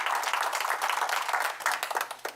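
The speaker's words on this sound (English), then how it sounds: "can you hold your clapping until the end?" Audience applause at a town board meeting: many hands clapping together in a dense, steady burst, close and continuous for a couple of seconds with no talking.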